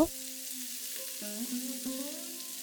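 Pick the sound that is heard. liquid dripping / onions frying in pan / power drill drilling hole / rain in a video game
onions frying in pan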